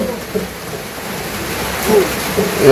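Rain falls steadily on a village during the rainy season in Bangla, a dense even hiss of drops close by, with a faint voice briefly underneath.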